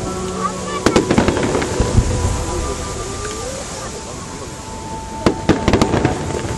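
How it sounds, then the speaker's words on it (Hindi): A fireworks show over Busan sets off scattered sharp cracks and booms against a continuous crowd and ambient rumble. A few bursts come early and a tighter cluster near the end, heard from a distance in an open outdoor setting. "जैसे जैसे म्यूज़िक चलता है वैसे वैसे क्रैकर चल रहे हैं"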